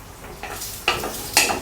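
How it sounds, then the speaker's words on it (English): Ginger and garlic sauté in hot sesame oil over medium-low heat, a soft steady sizzle broken by a few louder stirring scrapes in the pan, close and without talk. "add the ginger and the garlic and saute until it turns aromatic"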